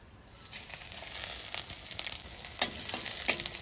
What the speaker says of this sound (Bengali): জিরা ভেজে নিলাম, জিরা আর লঙ্কা ভেজে নিলাম